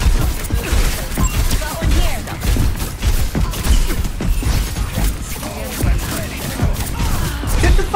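Rapid turret gunfire in Overwatch 2 rattles loudly through a competitive match, dense bursts of shots mixed with impacts and game effects, with players talking over the action.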